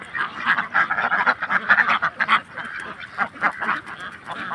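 Ducks on a Belgian duck farm keep up a loud, dense chorus of overlapping quacks, nearby and continuous, with no voices over them.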